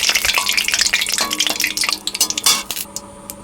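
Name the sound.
cumin, bay leaf and dried chilli tempering in mustard oil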